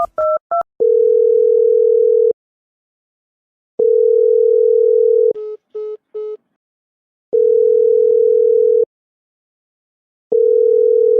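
Telephone dial tone while a call is placed: a few short beeps, then long steady tones repeating with pauses, interrupted once by a burst of short pulses, loud and clear with no talking.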